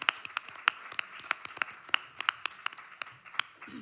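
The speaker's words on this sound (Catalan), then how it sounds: "un fort aplaudiment per tots dos" An audience at a poetry slam and recital in Barcelona claps, a thin, moderately paced scatter of individual hand claps from a small crowd, heard at a modest distance without talking.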